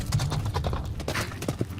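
Horse hooves clip-clopping in a brisk, steady rhythm, close and clear, with no talk over them.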